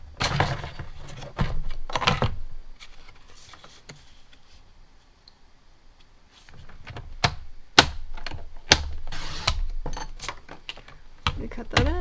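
A paper trimmer cuts a sheet of paper for a card base in a crafting setting, with close, sharp clicks and slicing taps in quick clusters and a quieter pause in the middle.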